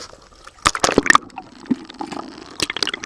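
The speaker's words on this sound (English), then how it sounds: "The waves hitting it." Boat wake waves strike a cracked, deteriorating seawall in Deerfield, Florida, giving irregular close splashes and sloshes, a few sharp slaps clustered together and then quieter lapping.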